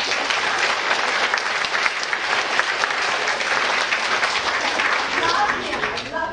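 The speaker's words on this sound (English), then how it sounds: "So you guys give him a big round of applause." Steady, dense applause from an audience at a talk on sex and relationships, sustained loud clapping that carries throughout without pause and tapers slightly at the very end.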